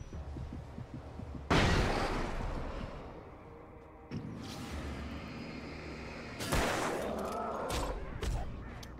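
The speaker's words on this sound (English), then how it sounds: "There we go. Flashbang." Flashbang grenade bursts in the video game Alan Wake, a sudden loud blast with a long hissing, ringing tail, followed by further booming impacts close by, under faint game ambience.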